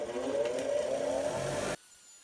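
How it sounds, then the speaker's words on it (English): Motor-driven wire brush wheel cleaning steel rods from an Atlas 73 drill press, a loud whirring grind with a rising tone for under two seconds that stops abruptly. "I'm just going to clean up these rods with the wire brush on the wheel here."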